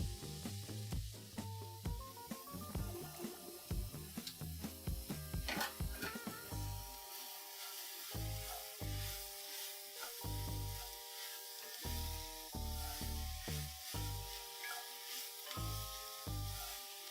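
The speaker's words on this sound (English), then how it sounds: "Adding in celery and carrots to our cooking onions." Celery and carrots added to onions already cooking in a pan for pasta e fagioli, sizzling steadily under repeated stirring scrapes, close up, while music plays along in the background.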